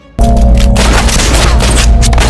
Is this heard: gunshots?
yes